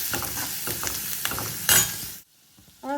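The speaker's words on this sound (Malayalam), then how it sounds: "നമുക്കിത് നന്നായിട്ട് ഇളക്കി കൊടുക്കാം ഇറമാറുന്നവരെ ഇളക്കി കൊടുക്കാം" Chopped onion, garlic and ginger frying in a pan and being stirred, with scraping strokes over a steady sizzle that drops away near the end before a brief clatter.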